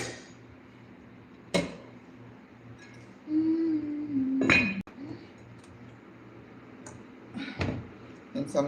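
A lid clinks down onto a pot of beans on a stove, one sharp metallic clink among other light kitchen knocks and clatter, with faint background hum.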